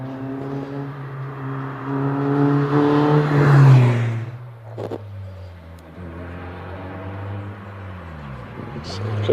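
A Mazda MX-5 race car accelerates up the Prescott hill climb, its engine rising through the gears, then easing and pulling away again. It is a close, loud, sustained drone with commentary talk over it.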